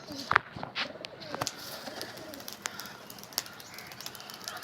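Homing pigeons in a loft coo softly, with a few sharp flutters and clicks of wings and feet, faint and close in a quiet space.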